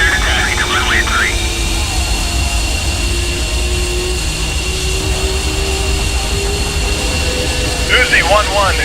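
F-15C jet engines idle and whine while the aircraft taxis to the runway in the flight simulator DCS World, a steady loud roar with a high tone, under radio chatter from the pilots.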